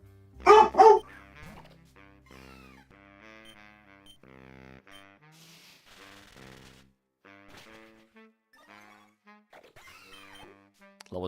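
A dog lets out a short burst of barks, close and loud, then soft electronic game music carries on alone.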